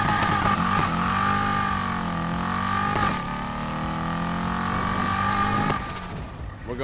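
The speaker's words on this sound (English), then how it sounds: "you're going to rev your engine, you're going to hold your e-brake" A drag car's engine is held at high revs before a launch in Need for Speed Heat, a loud, continuous buzzing growl whose pitch dips and rises in slow waves with a few sharp bumps.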